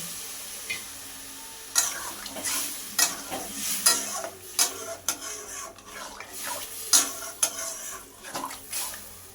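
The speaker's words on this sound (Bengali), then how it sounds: "এটাকে একটু নাড়াচাড়া করে নেব" Long beans sizzle in a pan while a utensil stirs them, with repeated scraping and clinking strokes in an irregular rhythm over a steady frying hiss, close and moderately loud.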